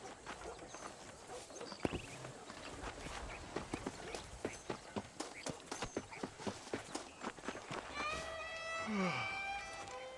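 Horse hooves clip-clopping at a walk in the video game Red Dead Redemption, a steady run of close, distinct hoof clops under ambient game sound, with a voice and a rising animal call near the end.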